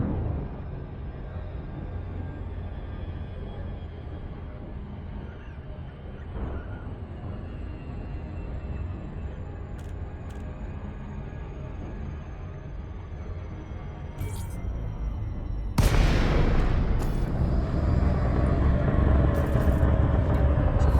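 Frame shift drive launching in Elite Dangerous: a steady engine-like rumble builds for about fifteen seconds, then a loud sudden surge of roaring broadband noise takes over as the jump kicks in.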